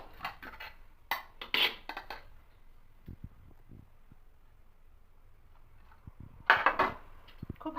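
A spoon stirs semolina payesh in a pan, giving a few scattered scrapes and light metallic clinks, close and fairly faint with quiet gaps between.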